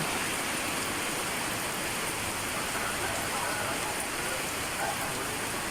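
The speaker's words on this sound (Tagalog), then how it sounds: "lakas ng ulan" Heavy rain pours down steadily, a dense, continuous hiss of drops hitting surfaces close by, with no pauses.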